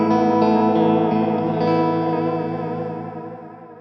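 Electric guitar through a Wampler Faux Tape Echo pedal set to extreme modulation, a sustained chord warbling and wobbling in pitch with washy echo repeats, loud at first and slowly fading out, no voices.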